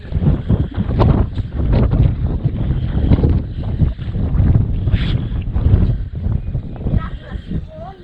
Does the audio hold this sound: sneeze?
no